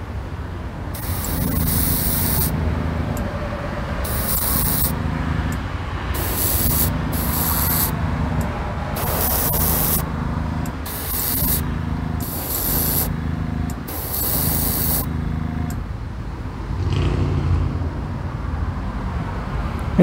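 Aerosol spray paint hisses in about eight short, evenly spaced bursts as someone coats the rough-cast front fender of a model car outdoors, with a steady wind rumbling underneath.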